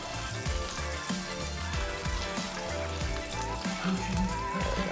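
Meatballs frying in a pan over a campfire, with a steady, dense sizzle and crackle that carries on unbroken and close.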